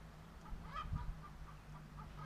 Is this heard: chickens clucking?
yes